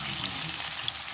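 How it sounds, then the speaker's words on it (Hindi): A whole fish frying in a pan gives a steady, loud, close sizzle of hot oil, with dense crackling spread evenly across the whole stretch and no talk. "ये इतना बड़ा है ना, सारा फिश एक ही बार में फ्राई हो जाएगा"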